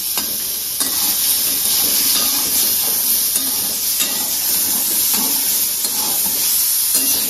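Bengali olive chutney cooks in a pan, the olives softened and lightly salted, giving a steady close sizzle with faint scraping stirs throughout and no talking.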